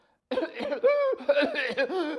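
A voice imitates a whooping cough: a string of rapid coughing bursts broken by drawn-out, high-pitched gasping whoops, close and fairly loud.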